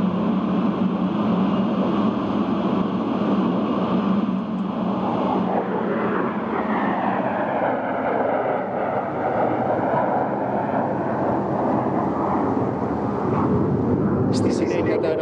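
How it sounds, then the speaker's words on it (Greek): The ZEVS jet performs a multiple roll at an air show, a loud, continuous engine roar whose pitch sweeps as the aircraft passes, with an announcer speaking over it. "Από αριστερά σας, ο ZEVS με το Multiple Roll."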